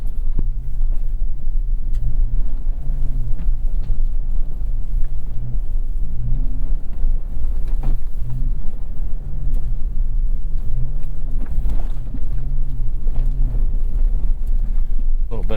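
A 2025 Toyota 4Runner TRD Pro driving over sand dunes in the Mojave, a steady low engine rumble with wavering revs and wind buffeting, heard from inside the cabin with people talking over it.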